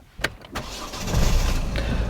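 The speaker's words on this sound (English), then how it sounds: "When I turn this key and start the engine, the battery powers the starter motor and gets the engine going." A car engine is started with the ignition key: brief starter clicks and cranking give way to a steady, fairly loud engine rumble that continues to the end, with no talk.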